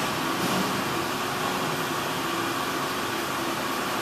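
A Fadal AC motor jogged through a Calmotion CAL-AMP-X programmable amplifier gives a steady, even mechanical whir with a faint tonal hum under broad hiss, unbroken and without speech.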